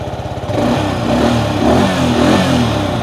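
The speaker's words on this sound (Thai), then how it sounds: "มาสตาร์ทกันหน่อย นี่ทีเดียวติดนะครับไม่ต้องบีบกันเร่งช่วยเลยนะครับ" A Yamaha XSR or Honda CB150R motorcycle engine fires up after a brief crank and settles into a steady, close idle that continues throughout.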